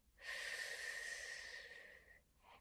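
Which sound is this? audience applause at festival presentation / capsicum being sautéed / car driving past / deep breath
deep breath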